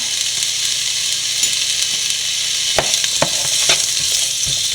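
Duck roast masala, Kuttanad style, sizzles and fries in a pan as a constant loud hiss, with a few sharp clicks of a spoon stirring against the pan.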